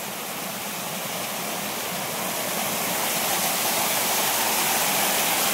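A waterfall at a dam in the Konkan region roars as a dense, continuous wash of rushing water, close and loud, growing slightly stronger with no voices.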